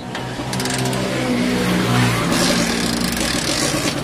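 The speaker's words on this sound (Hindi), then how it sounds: "जैसे ही हम एक्सीलेटर लेते हैं ये गाड़ी बंद हो जा रही है" A motorbike with its air filter removed runs and is revved, its engine buzzing and droning loudly with a rising and falling pitch, then sagging as it begins to stall.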